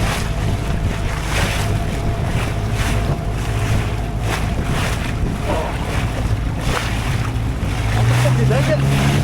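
Boat engine droning steadily as the Green Goblin heads out of the harbour to a scallop dive spot, with waves slapping the hull, wind buffeting the microphone and voices talking over it.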